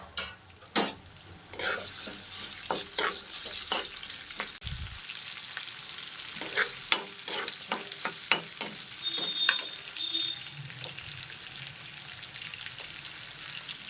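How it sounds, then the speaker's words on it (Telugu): Chana dal, urad dal, cumin, mustard seeds and dried red chillies fry in hot oil for upma, giving a steady close sizzle with crackling pops and occasional stirring clicks. "మంచిగా ఫ్రై చేసుకుందామండి"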